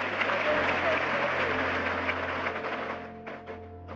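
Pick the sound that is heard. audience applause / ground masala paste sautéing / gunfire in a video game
audience applause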